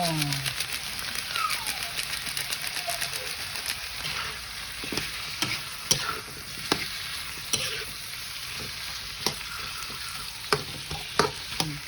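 Chicken pieces sauté in a hot pan with a continuous sizzle, punctuated by repeated sharp scrapes and knocks of a utensil stirring, irregular and close, growing more frequent toward the end.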